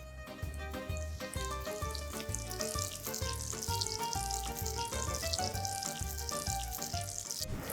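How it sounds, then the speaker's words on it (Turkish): Chicken with vegetables, coated in kadayif pastry, frying in hot oil, giving a steady dense crackle and sizzle throughout, close and moderately loud with background music. "Her tarafı altın sarısı rengini alana kadar kızartacağız."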